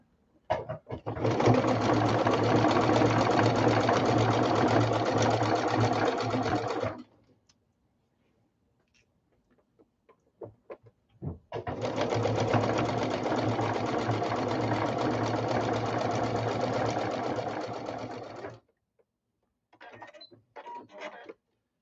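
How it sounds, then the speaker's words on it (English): A sewing machine whirs in two long, steady stitching runs, separated by quiet pauses with small clicks and handling sounds. "put this underneath the sewing machine, and we'll run a 1/4 inch"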